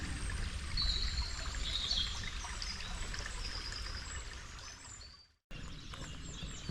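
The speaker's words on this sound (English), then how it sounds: "The village fades, replaced by birdsong and the quiet trickle of water." Quiet trickle of water in a limestone dale on a Peak District walk near Tideswell, a steady soft flowing wash with faint birdsong high above, briefly cutting out near the end before resuming.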